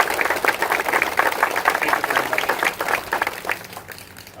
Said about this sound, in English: Can I have a round of applause for each of our 100 members here?